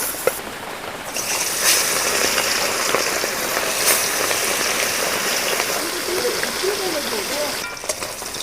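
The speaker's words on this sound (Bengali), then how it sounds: "এবার আমি মাখিয়ে রাখা মাছটা দিয়ে দেব।" Marinated sea fish fries in hot white oil in a wok, giving a steady, dense hiss and crackle that keeps going from start to finish, with small spits and pops now and then.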